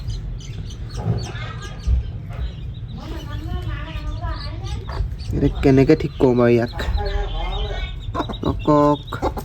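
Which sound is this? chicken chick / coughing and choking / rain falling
chicken chick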